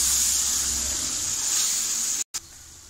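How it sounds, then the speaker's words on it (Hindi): Garlic, ginger and green chilli paste frying in a pot, giving a steady, even sizzling hiss that continues without a break until it cuts off briefly near the end. "अब हम लहसुन अदरक को उस वक्त तक भूनेंगे लहसुन अदरक की स्मेल ख़त्म हो जाए"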